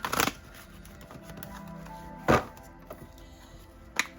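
Tarot cards shuffled close by in three separate bursts, a longer riffle at the start then two quick brisk flutters, against a quiet room.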